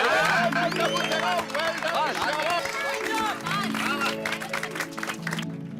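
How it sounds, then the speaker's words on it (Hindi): Loud applause and clapping from a gathered family crowd at a Ganpati festival celebration in a housing society, with cheering and overlapping chatter throughout. "एक बार जोरदार तालियां हो जाए टप्पू सेना"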